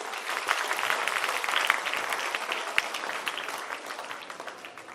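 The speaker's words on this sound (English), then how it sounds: "Can we have a great round of applause for them?" An audience claps loudly and steadily for the judges at a college orientation day, a dense, continuous burst of applause that tapers slightly toward the end.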